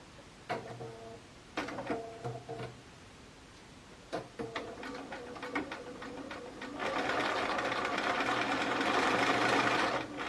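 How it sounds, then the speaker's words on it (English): A sewing machine speed-sews a quilt, starting with a few short stitching bursts separated by pauses, then running steadily and loudly near the end. "There's something really nice about speed sewing, isn't there?"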